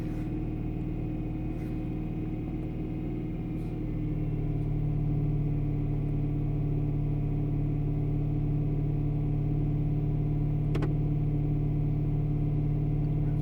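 A BMW M3 engine idles steadily during a DCT gearbox reset, a low close hum that rises slightly in pitch partway through, with a few faint clicks and no talk.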